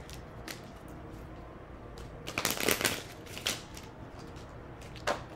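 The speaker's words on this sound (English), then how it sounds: "That was an ugly shuffle." Tarot cards being shuffled close up, with one dense riffling burst in the middle, a few lighter card snaps around it, and a quiet room otherwise.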